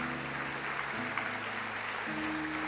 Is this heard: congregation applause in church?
yes